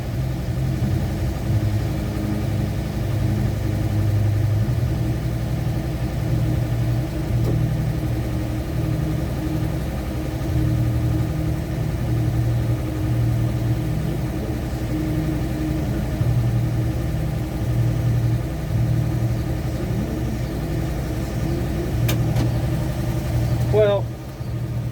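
A 1965 Chevy car engine idles steadily after sitting unused for seven years, a low, even rumble with a constant throb held close for the whole stretch, broken only by a brief click near the end.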